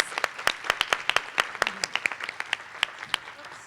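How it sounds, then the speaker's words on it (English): At a Goodwill awards breakfast, a small group applauds the runners-up: distinct, sparse claps, irregular and fairly close, sounding like only a handful of people clapping, with no speech. "Please give all of our runners-up a round of applause."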